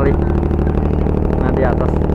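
Exhaust and engine of a ferry boat waiting to queue at a crossing, heard from the upper deck near the exhaust: a loud, steady, throbbing drone that runs throughout, with talk over it.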